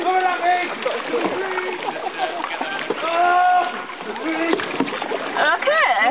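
Canoe paddling with water splashing and sloshing around the boat, continuous through the clip under excited, overlapping talk from the people aboard.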